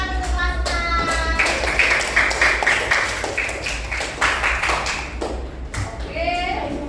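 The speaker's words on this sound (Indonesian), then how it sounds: "Tepuk tangan untuk kelas" A classroom group claps in a short burst of applause after a computational thinking lesson, with a teacher's voice talking over the clapping at the start and end.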